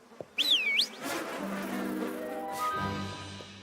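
A sharp buzzing of cartoon bees zips past up close, then a low droning hum lingers with a few soft knocks.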